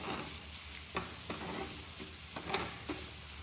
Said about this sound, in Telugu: ఇవన్నీ ఇందులోకి ఇప్పుడు టొమాటోస్ యాడ్ చేసేసుకుందాం